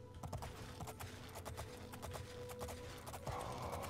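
A horse's hooves clip-clop at a steady walking rhythm in the video game Oblivion, close and clear over a quiet ambient backdrop.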